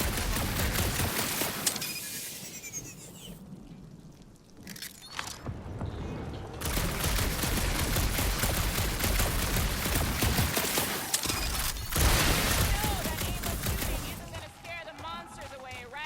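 Repeated gunfire in Marvel's Guardians of the Galaxy, bursts of shots crackling through dense combat noise and music, with a few quieter gaps between volleys; voices talk over part of the action.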